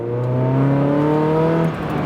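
A freshly reassembled Mazda Miata engine with upgraded engine mounts revs up briefly, a loud steady droning tone that climbs slightly and then drops off near the end.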